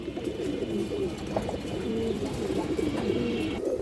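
A female pigeon and others coo in low, repeated murmurs, fairly quiet and steady against a soft background hum.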